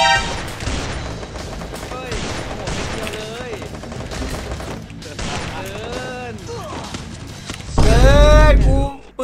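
Rapid bursts of gunfire from a gun in the Free Fire battle royale game, dense and continuous over game music and voices, swelling into a loud, heavy burst near the end.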